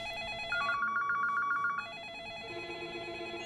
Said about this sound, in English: the police station is bombarded with incoming phone calls